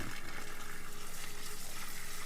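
Water pours steadily into an organic fertilizer mix for natural farming, a continuous hissing, gushing splash that runs unbroken at moderate loudness.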